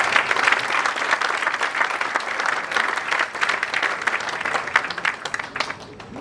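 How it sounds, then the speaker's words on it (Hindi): Audience at an Ambalika Institute event applauds, a dense, loud, sustained wave of clapping that holds for several seconds before easing slightly at the end. "मैं आप सबसे अनुरोध करूंगा तालियों की गड़गड़ाहट के साथ"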